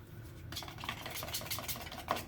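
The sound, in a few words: palette knife stirring acrylic paint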